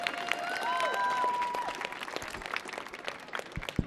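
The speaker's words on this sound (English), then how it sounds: "Let's give them a round of applause" Audience applause during an improv workshop on a theater stage, scattered claps rising as a voice fades out, then continuing as loose, close individual claps with brief chatter.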